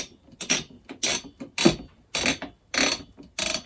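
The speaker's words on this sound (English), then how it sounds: "now we grab our trusty screwdriver and we screw in one of the screws over" A screwdriver drives screws into a PC case, sounding as a series of six short, close ratcheting bursts of about a third of a second each, separated by brief pauses.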